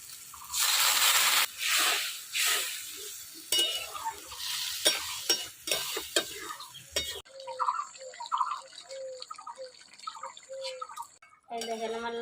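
Masala sizzles loudly in a kadai for a boal fish curry with lau, with scraping stirs, then water goes in and the frying gives way to quieter bubbling while a person talks.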